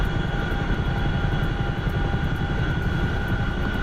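Chinook helicopter flying in a video game, a loud continuous engine and rotor roar with a steady droning hum and faint rhythmic blade pulses, unbroken throughout.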